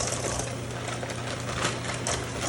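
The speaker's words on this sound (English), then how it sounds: "using the mixer after each egg" An electric mixer beats cherry cobbler batter in a large bowl, a steady close motor whir with a rattling texture that runs without a break.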